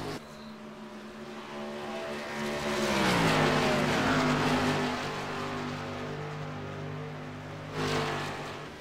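Race cars lap a circuit in an ITSR race, engines holding a steady loud drone that climbs in pitch mid-clip, with another car's engine rising near the end.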